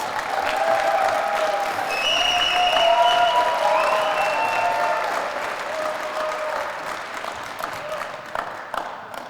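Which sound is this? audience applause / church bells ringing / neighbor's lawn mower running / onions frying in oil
audience applause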